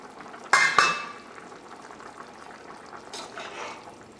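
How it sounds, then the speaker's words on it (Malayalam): A metal lid set down on a pot of potato and cauliflower curry, two quick clanks close together near the start, then a soft faint rattle and a low simmer. "നമുക്ക് മൂടി വയ്ക്കാം."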